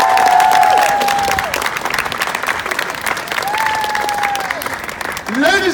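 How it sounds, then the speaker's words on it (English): A street audience applauding a performer's young helper, loud sustained clapping and crowd noise close by that swells, dips slightly, then rises again near the end, with whistle-like tones over it. "These guys will give you one last massive round of applause"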